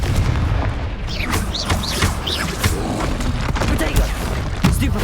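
Confringo, the fire-blast spell in the video game Hogwarts Legacy, goes off as a burst of booming, crackling impacts that runs steadily for the whole stretch, with a voice cutting in over the blasts.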